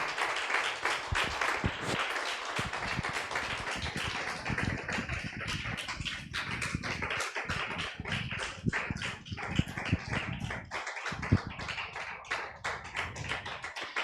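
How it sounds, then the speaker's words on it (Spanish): Church congregation applauding loudly and steadily at a worship service, dense continuous clapping throughout with occasional sharper claps standing out. "Dale un fuerte aplauso al Señor."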